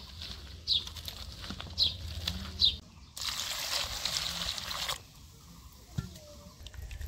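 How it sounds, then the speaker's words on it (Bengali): Water pours and trickles into a bowl of cucumber being prepared for a Bengali cucumber fry, a steady splashing stream running for a couple of seconds amid light handling clatter, fairly quiet and close. "আমি একটু জল দিই, তাই দেখেন অনেক জল।"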